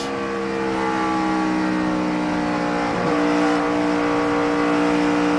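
NASCAR Sprint Cup stock cars race at Auto Club Speedway in Fontana, a sustained loud engine whine with a clear pitch change near the middle as a car passes, heard without talking.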